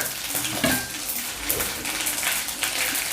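Whole spices (cinnamon, cloves, cardamom) crackle and sizzle in a spoonful of hot oil in a pan for veg dalcha, a steady dense frying hiss with a few soft stirring knocks, no voices.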